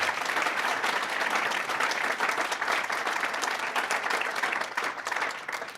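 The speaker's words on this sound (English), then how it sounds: "Let's have a nice round of applause for them." Guests at a student life awards banquet give award nominees a round of applause, a steady, even patter of many clapping hands sustained for several seconds at a moderate, slightly distant level.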